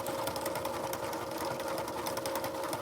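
An electric mixer creams butter and brown sugar for gingerbread with a continuous steady motor whir and a fine rhythmic beating texture. It is close and even throughout, with no pauses.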